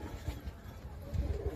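A Madras (Chennai) line pigeon gives soft, low, repeated coos in a quiet, steady pulsing rhythm, close and faint.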